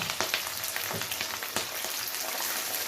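Large-cut onions sizzle in hot mustard oil in a wok, a dense close crackle with sharp pops throughout and no voices.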